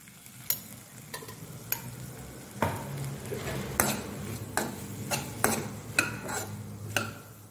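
A spoon scrapes and clinks against a pan while sautéed okra with turmeric sizzles softly. Sharp metallic knocks recur every second or so over a low frying hiss, with no talk.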